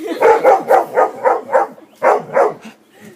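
A dog barks rapidly and repeatedly at close range, about ten sharp barks in quick succession with a brief pause partway through.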